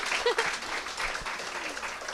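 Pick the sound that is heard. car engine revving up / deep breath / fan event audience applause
fan event audience applause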